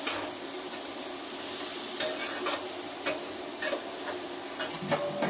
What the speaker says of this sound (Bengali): দেখো আমার এটা অনেকটা ভাজা ভাজা হয়ে যাচ্ছে